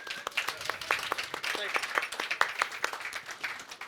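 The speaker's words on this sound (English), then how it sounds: "Big round of applause." Scattered clapping from an audience at a bar symposium in Cologne, a lively patter of hands that continues steadily throughout, with some voices mixed in.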